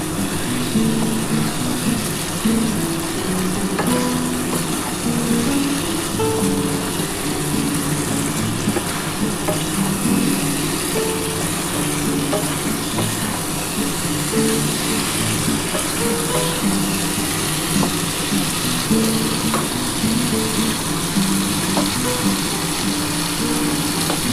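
Shrimp and bottle gourd sautéing in a pan give a steady, loud sizzle and frying hiss that runs unbroken throughout, with faint scraping of stirring underneath.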